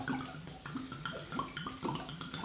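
Sauvignon dry white wine poured into a chicken marinade gives a faint, close liquid splash and gurgle with small bubbling bursts, alone without talk.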